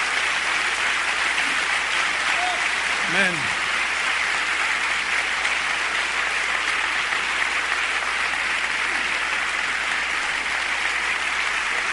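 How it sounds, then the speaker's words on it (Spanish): A church congregation applauding, a broad steady wash of clapping filling the space, with a single voice briefly calling out over it. "Yo quiero que le dé un aplauso a él."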